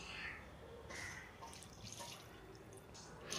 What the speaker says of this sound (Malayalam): ഇതിലേക്ക് കുറച്ച് ചൂടുവെള്ളം ഞാൻ ചേർത്തിട്ടുണ്ട്.